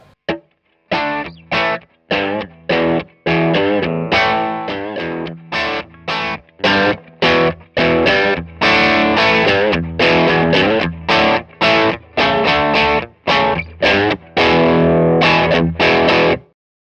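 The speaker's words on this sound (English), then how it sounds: "So at gigs with a Telecaster, that's pretty much where I had it set. It's a real rock and roll sound." A Telecaster through a Strymon Sunset overdrive pedal plays choppy, driven chords with a crunchy overdriven rock tone, rhythmic stabs separated by brief silences, loud and close.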